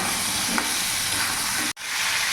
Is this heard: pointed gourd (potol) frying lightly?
yes